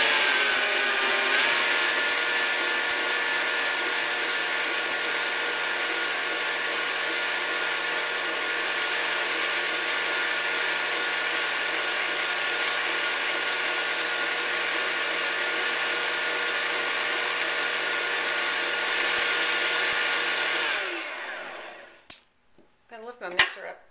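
An electric mixer beats blueberry coffee cake batter with sour cream and vanilla, a steady, loud motor whir held unbroken for about twenty seconds, then winding down and stopping, followed by a few clinks.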